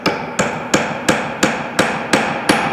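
A wooden mallet taps glued dowels into holes in an end table side, giving eight sharp, evenly spaced knocks about a third of a second apart, each with a short ring. The knocks are close and clear, with no talking.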